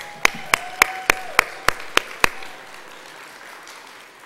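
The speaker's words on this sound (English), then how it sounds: "Please give yourselves a round of applause." At an awards luncheon closing an annual conference, eight crisp, evenly spaced claps ring out close and loud, then fade into quiet room tone with a faint held tone underneath.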